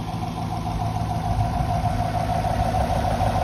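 A 6th-generation Chevrolet Camaro SS engine with a newly installed K&N Blackhawk cold air intake idles steadily and evenly with a low, constant hum and no voices.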